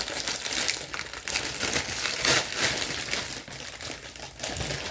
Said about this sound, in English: you're going to hear crinkling